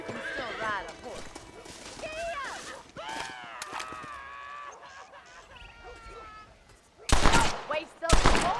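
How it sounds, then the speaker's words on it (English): Horse whinnies and neighs in the Red Dead Redemption western game, with rising and falling whinny calls over hoof clatter, followed by two loud bursts near the end that sound like gunshots. "let's see if you can still ride a horse"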